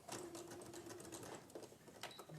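A sewing machine stitches patchwork, its quiet, rapid mechanical whir and clatter running steadily close by, with a brief pause and restart near the end.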